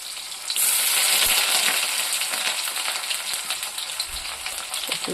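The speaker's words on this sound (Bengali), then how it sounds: "তবে আমি শুটকি আর পেঁয়াজ ভেজে নেব।" Dried fish and onions fry in hot oil, giving a loud, dense, continuous sizzle that starts abruptly and holds steady throughout, with a few faint clinks and scrapes underneath.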